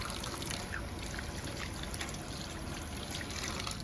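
Tap water runs steadily over hands being wetted before handwashing, a constant soft hiss and trickle for about four seconds, faint and even with no talking.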